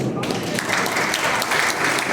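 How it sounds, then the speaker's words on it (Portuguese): Clapping from a church gathering, a brief, dense round of many hands under a loud, echoing room tone, running the whole length without pause. "muito bom, palmas"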